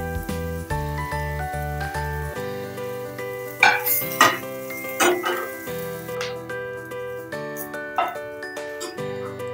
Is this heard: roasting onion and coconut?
yes